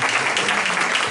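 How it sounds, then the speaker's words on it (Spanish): Audience applause at a lecture on bands in Santa Fe, a dense, steady wash of many hands clapping at close range, holding evenly for about a second. "Un aplauso para Jorge."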